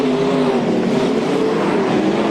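360 sprint cars racing on a dirt speedway, a loud continuous engine roar with steady droning pitch, close and unbroken throughout.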